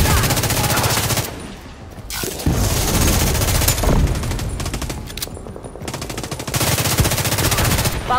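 Rapid automatic gunfire rattles in loud sustained bursts during a combat mission in The Division 2, broken by short pauses and a few heavier booms.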